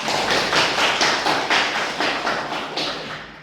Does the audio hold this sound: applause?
yes